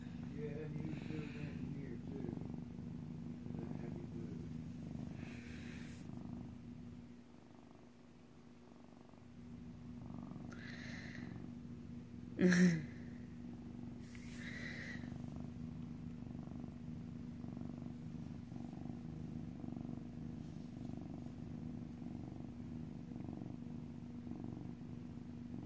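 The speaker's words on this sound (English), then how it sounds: "He just sitting on the floor purring his brains out." A cat purrs steadily on the floor, a continuous low rumbling drone that runs close and moderately loud through the whole stretch, with a brief dip partway and a short sharp noise near the middle.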